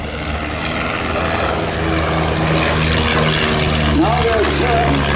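Tiger Moth biplanes fly a display at the Duxford Battle of Britain airshow, with a steady, loud propeller engine drone filling the whole clip and a commentator talking over it.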